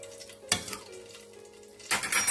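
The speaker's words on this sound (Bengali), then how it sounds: "আমি যে মাছগুলো ভেজে রেখে দিয়েছি সেগুলো দিয়ে দিচ্ছি।" Fried boal fish going into a pan of tomato sauce, two bursts of sizzling and clattering spaced apart, with a low hiss in between.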